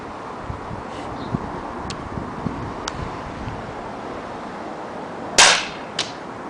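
A Winchester Model 11 semi-automatic BB pistol fires once with a sharp, loud crack outdoors, followed shortly by a fainter tick of the BB ricocheting, over light wind and rustling.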